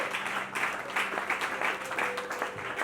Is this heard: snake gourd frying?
no